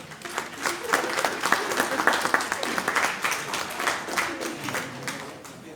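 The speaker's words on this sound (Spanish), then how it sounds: "Demos una bienvenida, por favor, con un fuerte aplauso." An audience gives a warm welcoming applause for a speaker, a steady stretch of many hands clapping in a moderately sized room, evenly sustained with distinct individual claps standing out.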